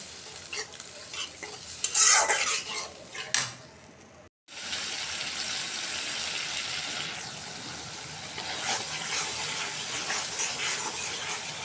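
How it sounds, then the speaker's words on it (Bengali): Masala with turmeric, chili, water and tomato sauce being fried and stirred in a pan, with loud clattering stirring at first, then a brief gap and a steady bubbling sizzle that lasts to the end. "টমেটো সস দিয়ে দিলাম, ভালো করে কষাই নেবো এখন মশলার সাথে।"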